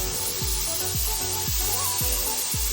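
A ground paste of tomato, onion, ginger and garlic sizzles in a hot pan with a constant bright hiss, while regular stirring scrapes thump along about twice a second.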